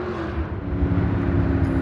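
Car exhaust idling or running steadily with a low rumbling drone, close and continuous, no talking.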